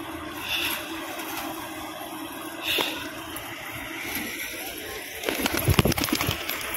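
Tumbler pigeons fly over a tin roof, with soft coos and intermittent wing flaps, ending in a louder burst of flapping nearby amid outdoor background noise.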